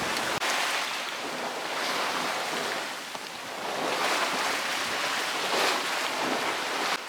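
Rough sea breaks and hisses around a sailing boat beating hard into wind near 30 knots, with steady loud wind roar and rushing white water throughout, no voices.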